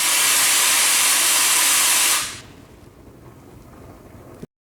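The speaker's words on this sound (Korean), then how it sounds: "이렇게 부글부글하는 소리가 들리시죠?" Pressure hisses loudly out of a high-temperature, high-pressure coffee extraction machine as the vent is opened, a strong steady rush for about two seconds that abruptly drops to a faint, low bubbling and gurgling that continues alone.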